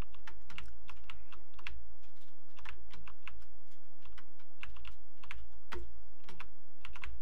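Rapid clicking on a computer keyboard used as game controls for a ZX Spectrum Next game core, loud and close, steady flurries of key presses with no talk.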